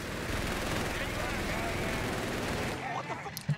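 MG 42 machine gun firing in Company of Heroes 3, loud rapid sustained bursts over layered battle noise that cut off near the end, leaving scattered faint sounds.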